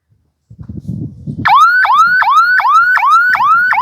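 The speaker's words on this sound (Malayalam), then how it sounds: "ഇത് താഴ്ത്തുമ്പോഴത്തേക്കും അവിടെ സൈറൺ വരും" A loud electronic flood warning siren wails in rapid, repeating rising sweeps, following a short burst of low rumbling and thumping.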